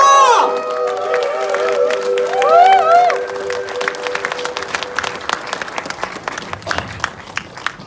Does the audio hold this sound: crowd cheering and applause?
yes